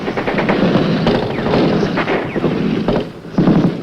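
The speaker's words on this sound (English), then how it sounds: "Bullets rip through the leaves" Gunfire rattles loud and close as at least 30 Viet Cong fire from a village and bullets rip through the leaves, a dense, continuous, ragged crackle with brief dips.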